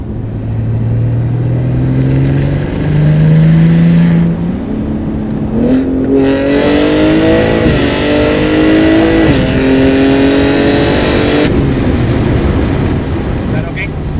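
A BMW G80 M3 with a full titanium Valvemaster exhaust revs hard, loud and close, its engine note climbing in stepped pulls with brief drops between, while people talk faintly over it.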